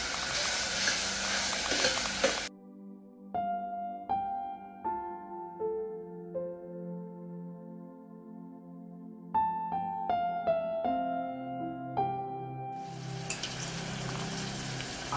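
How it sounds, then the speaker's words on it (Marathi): Chopped tomato and onion sizzle in a hot pan for a quick breakfast dish. Loud frying hiss opens and closes the stretch, with a long middle gap where only music plays and no one speaks. "आणि टोमॅटो पण छान आपल्याला याच्यात शिजवून घ्यायचा आहे."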